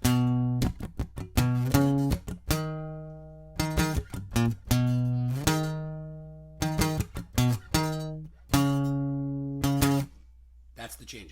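Guitar bass notes from the opening of a song, played as a sequence of plucked, ringing low notes in an uneven rhythm, close and clear with short gaps and no voice.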